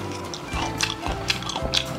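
Someone bites and chews a crispy squid kimchi pancake up close, making several crunchy bites at an uneven rhythm. Faint background tones sit underneath.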